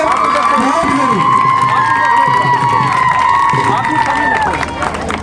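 Crowd at an Indian village kushti wrestling dangal cheering loudly, with shouting voices and a sustained high whistle-like tone over a dense, close roar; clapping is not distinct.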